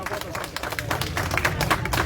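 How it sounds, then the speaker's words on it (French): A crowd at a political press conference in Mali claps for an honored activist, an uneven patter of many hands over room murmur and voices, moderately loud and continuous. "Siaka Berté, applaudissez pour lui"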